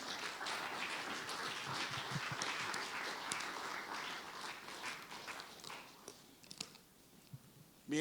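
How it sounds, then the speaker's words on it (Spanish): A church congregation claps for the Lord, a fairly soft, steady spread of many hands that thins out toward the end. "Dele palmas al Señor"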